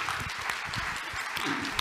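An audience at a clinical research presentation on mpox claps in a short, even burst of moderate applause heard from within the room, with no voices over it.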